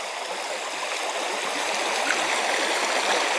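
A stream runs fast over a ford in Hodders Combe, giving a steady, close rushing and babbling of water that holds level throughout with no voices.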